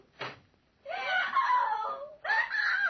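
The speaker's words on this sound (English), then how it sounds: "What was that scream I just heard?" A woman's long, wailing scream in an old-time radio drama, a short cry followed by two sustained, loud anguished shrieks close to the microphone.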